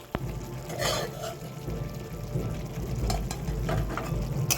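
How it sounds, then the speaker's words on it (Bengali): Fried potatoes tipped into a pan of Bengali fish kaliya, frying with a continuous close sizzle and bubbling, broken by a few stirring scrapes. "ভেজে রাখা আলুগুলো দিয়ে দিচ্ছি।"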